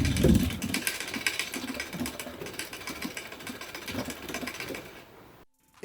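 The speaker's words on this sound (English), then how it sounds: "The cage moves out too much and you'll get this annoying chain rub." A bicycle chain scrapes against an over-tightened front derailleur cage in a steady, buzzing rattle with a rapid ticking rhythm while the cranks turn, moderately loud and up close, stopping abruptly near the end.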